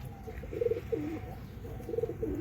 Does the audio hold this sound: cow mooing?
no